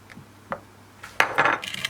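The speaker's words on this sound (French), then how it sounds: "On fouette pendant quelques secondes." A whisk beats sweetened cake batter in a bowl, giving a few sparse clinks against the side before a louder, busier burst of scraping and tapping near the end.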